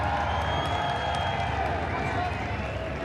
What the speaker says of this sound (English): A little cheer from the crowd.